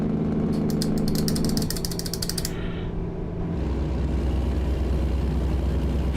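A truck engine runs steadily in American Truck Simulator, a continuous close mechanical drone with a brief high whine early on that settles into a deeper, even rumble.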